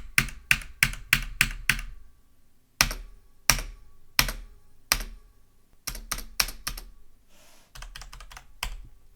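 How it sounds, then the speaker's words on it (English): Keys on a Logitech G Pro keyboard are struck one at a time, first in a quick burst, then in spaced presses, each sharp clack as they bottom out trailing off in a short ringing echo. "when you bottom out the keys, it'll make like this little echo sound"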